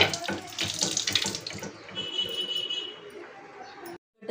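Tap water splashes and gurgles in a sink while finger millet is washed under it, loud and close at first and then easing into a softer stream before it briefly stops.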